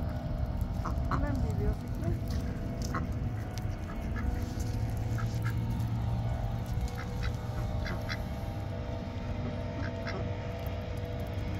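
Ducks being fed give short, scattered quacks over a constant low rumble of background noise, and the calls stay fairly faint throughout.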